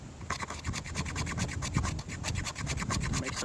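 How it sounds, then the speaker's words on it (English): A knife shaving thin curls off a stick of premium fatwood, heard as rapid, evenly spaced scraping strokes, close and moderately quiet, with no voices. "You could just cut some shavings off like this, or you could do it with a thumb or the back of the knife."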